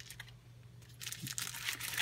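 A plastic protective pouch wrapped around a KAPSYS SmartVision Lite Android smartphone crinkles and rustles as it is unpacked, quiet at first and then a denser, louder stretch of close handling noise.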